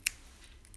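Scissors snipping cotton wick while building a vape coil, one brief crisp close cut followed by faint handling noise.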